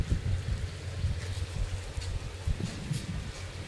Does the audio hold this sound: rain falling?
no